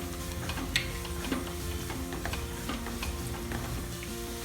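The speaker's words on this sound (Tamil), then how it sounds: "ஆனியன் 2 நிமிஷம் வதங்கினா போதும்." Onion and green chili frying in a pan with potato for a potato egg omelette, a steady dense sizzle with occasional light scrapes of stirring, close and continuous without talk.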